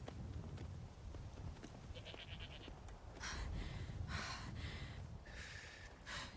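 Sheep from the Farm and Company mod bleat in a video game: a short wavering bleat, then several louder bursts spread over a steady low background hum.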